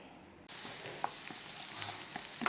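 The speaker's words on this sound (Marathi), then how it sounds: "आतां हांव सो मातशी फ्राय करून घाता पियाव" Onion fries in a pan for Goan pork, a steady close sizzle that starts abruptly after a brief quiet moment, with occasional small pops and crackles.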